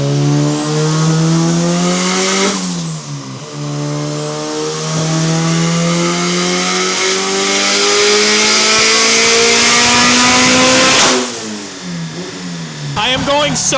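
Turbocharged Honda Civic engine revving hard on a dyno at about 15 psi of boost, a loud sustained wail that climbs steadily in pitch through two long pulls, each ending with a sharp drop-off and turbo chatter.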